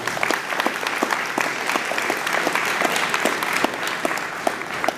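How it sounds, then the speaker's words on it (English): A Rosamond Rotary dinner crowd applauds its past and current presidents, a steady patter of clapping with individual sharp claps standing out, moderately loud and continuous without speech. "Please give them a round of applause."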